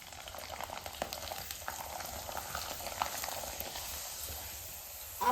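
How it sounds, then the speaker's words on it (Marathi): Potato and sago papad crisps frying in hot oil, a steady close sizzle and crackle with bubbling that holds throughout without any voices. "तेल गरम झालेले पापड तळण्यासाठी टाकून घेऊ."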